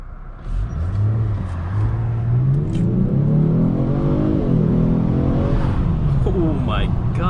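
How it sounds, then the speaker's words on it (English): A 2021 Genesis G70 3.3t in sport mode launches from a brake boost, its engine revving hard and climbing steadily in pitch as the car accelerates, loud and close from inside the cabin. "I'm gonna go ahead and put it in sport mode, and I'll give you a quick acceleration right here"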